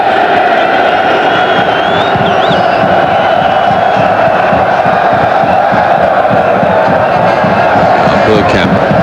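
A football crowd at a 1998 World Cup qualifier between the Netherlands and Belgium chants a player's name, a dense, continuous roar of massed voices with rhythmic swells and cheering throughout.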